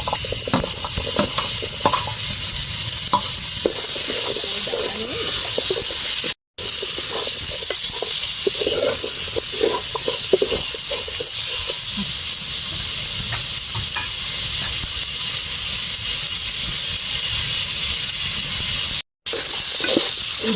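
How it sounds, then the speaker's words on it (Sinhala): Meat and cut potatoes fry in oil in a pot, making a loud, steady sizzle and hiss with occasional crackles and stirring scrapes, and there is no talk. "ඊට පස්සේ මස් ටික තෙල් එකේ පොඩ්ඩක් මැලවෙන්න දෙන්න."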